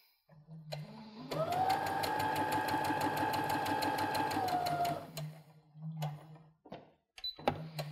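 A sewing machine stitches fabric in one sustained run of about four seconds, a rapid even mechanical whir with a rhythmic needle clatter, close and alone, with short motor blips before and after.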